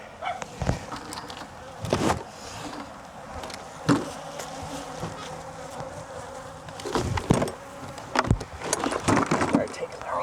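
Honeybees hum in a steady, low-level drone while a hive and its bottom board are lifted and moved outdoors, with sharp knocks and thumps of wooden hive parts and a person talking.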